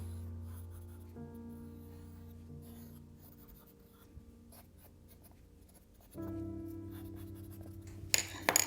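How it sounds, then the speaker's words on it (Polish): A pencil scratches steadily across paper while the outline of a bear mask is sketched, with faint strokes and soft rubbing over a quiet background hum, a few sharper ticks near the end. "rysujemy sobie kształt maski"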